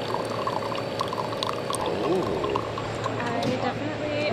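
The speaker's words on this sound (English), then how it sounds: "all you got to do is push the button. Dispense that water and make some tea." Hot water pours steadily from the dispenser of a Synesso ES1 espresso machine to make tea, a continuous close splashing stream with speech over it.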